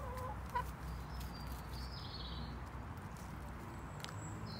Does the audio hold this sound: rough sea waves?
no